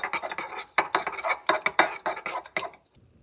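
A spoon stirring sugar into mug cake batter, rhythmic clinking scrapes against the mug, close and fairly loud, about a dozen quick strokes before stopping.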